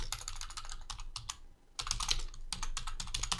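Typing on a computer keyboard while entering text into an Excel spreadsheet, with quick close clicks in bursts, a short pause midway, then steady keystrokes with no talk.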